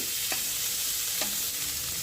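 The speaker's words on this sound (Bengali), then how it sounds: "একসাথে সব সবজিগুলো তেলে আর মশলা দিয়ে ভেজে নিচ্ছি।" Vegetables frying in oil with spices, including green chillies, in a pan: a steady soft sizzle runs throughout, with two brief scraping stirs.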